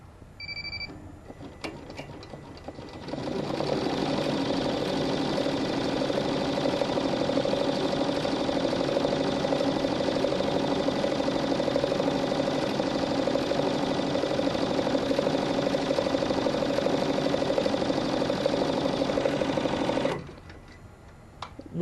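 An SWF embroidery machine starts stitching after a short quiet lead-in, then runs for about seventeen seconds as a steady, loud mechanical whir with a rapid even needle rhythm, stopping abruptly near the end.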